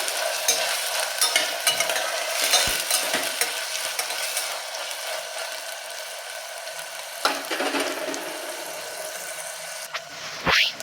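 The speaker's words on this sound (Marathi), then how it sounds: "गवारीच्या शेंगा एक साधारण दोन मिनटं छान भाज्या परतून घेऊयात आपण" Cluster beans, brinjal and other vegetables sauté in a pan with a dense, steady sizzle, punctuated by occasional spatula scrapes and clanks and a sharper knock near the end.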